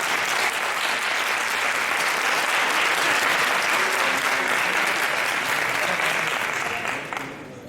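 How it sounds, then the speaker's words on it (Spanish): Loud, sustained applause from an audience at a talk in Coria for Marco, a thick wash of clapping that holds steady for several seconds and then fades out. "Os pido a todos un fuerte aplauso para Marco."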